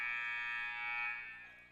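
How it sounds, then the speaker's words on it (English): A high school girls' basketball game buzzer sounds at Lane Tech vs. Niles North: one loud, sustained electronic tone lasting nearly two seconds before fading out. "there's your buzzer."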